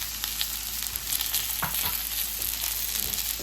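Salmon fries in a pan with butter, giving a steady, dense sizzle with a few crackles and pops, close and continuous throughout.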